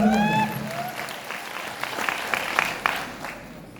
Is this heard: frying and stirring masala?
no